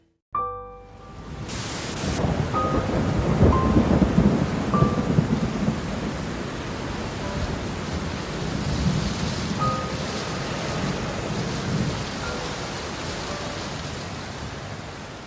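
Steady heavy rain pours through the night, with low rolling thunder rumbling beneath it and a few faint tonal blips early on, loud and continuous with no voices.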